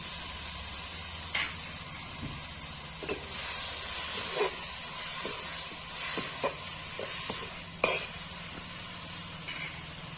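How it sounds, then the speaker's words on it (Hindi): Fenugreek leaves go into a hot pan of spinach greens for a Chhattisgarh-style saag, with a soft steady sizzle and a scattering of quiet scrapes and taps from stirring, faint and without talk. "अब इसमें हम डाल देंगे मेथी पत्ती।"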